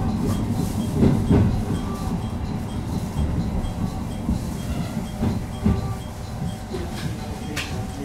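Sagano Line extra rapid train rolling into the Kameoka terminus, a steady close rumble of wheels on rail with a few soft clacks at the joints, running continuously from start to finish.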